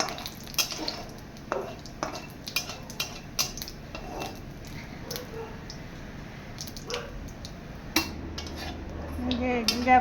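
Cumin seeds fry in a hot pan at home for a Bengali cabbage dish, with a spoon repeatedly clinking and scraping against the metal over a soft background sizzle.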